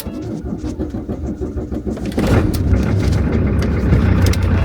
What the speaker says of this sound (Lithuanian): Ir neužkuriam mašinos.